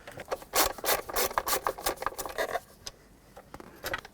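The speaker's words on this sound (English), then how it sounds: "remove the two screws." A Phillips screwdriver backs screws out of a cup holder assembly in a 2008-2010 Ford F-250, giving rapid close grinding, ratcheting scrapes in bursts that pause and then resume faintly.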